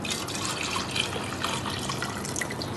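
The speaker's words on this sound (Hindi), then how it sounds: "अब ये मैं डालूँगी यखनी, ये देखिए इस तरह से" Beef stock, or yakhni, poured into a pot of nihari gives a steady, close liquid splashing and trickling that runs continuously without any voices.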